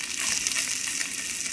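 Meat searing in a pan for shirataki sukiyaki gives a steady, dense sizzle and crackle. It stays close and even throughout with no voices.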